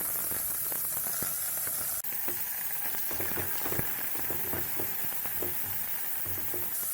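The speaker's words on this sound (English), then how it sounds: "The spices have released their aroma, so let's just add in the onions." Onions added to hot spices in a pan, a dense and steady sizzle with crackling pops and occasional stirring knocks, heard alone throughout.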